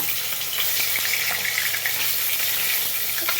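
Small katla fish frying crisp in hot oil, a dense continuous sizzle and crackle with faint spattering throughout, close and steady.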